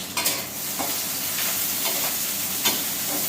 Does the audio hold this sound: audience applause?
no